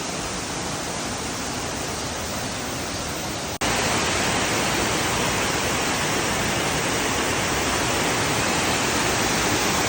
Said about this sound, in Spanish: Primera parada, primera cascada.